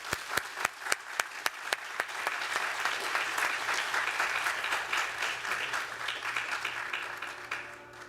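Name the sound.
applause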